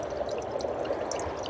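Rainwater from a roof pouring into a first-flush diverter pipe, a steady close rushing gush of water with no pauses and nobody talking.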